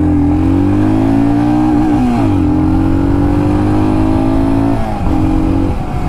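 Royal Enfield Scram 411 2022 scrambler motorcycle ridden off-road, its single-cylinder engine droning loud and steady, rising and dipping slightly with throttle changes and a brief gear shift, no voices over it.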